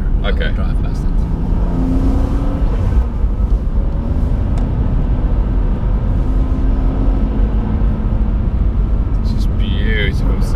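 BMW M2 Competition driving on a road near the Nürburgring, a steady loud engine and road rumble heard from inside throughout, with people talking over it.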